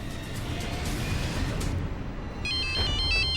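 A telephone rings with a repeating electronic ringtone pattern, entering after a stretch of steady low background noise and continuing near and clear to the end with no talk.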